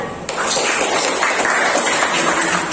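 Classroom applause during a Pancasila lesson, a steady dense patter of clapping hands filling the whole stretch without pause, close and fairly loud.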